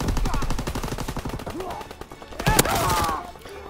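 Rapid automatic gunfire from Call of Duty WWII multiplayer, a steady stream of close, loud shots with a sharp burst near the end and game voices underneath.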